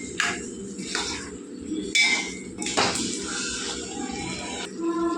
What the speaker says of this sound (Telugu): ఇది బాగా కలిపేసుకుందాం ముక్కలంతా పట్టేలాగా.